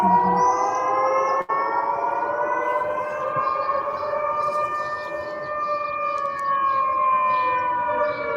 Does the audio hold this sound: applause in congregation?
no